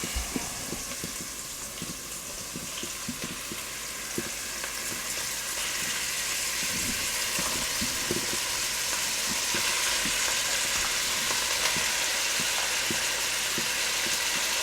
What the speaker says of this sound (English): Fry this together.